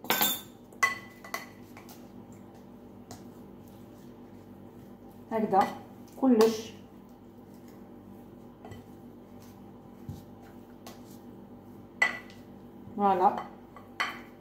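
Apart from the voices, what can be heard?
mixing ingredients with vinegar in a bowl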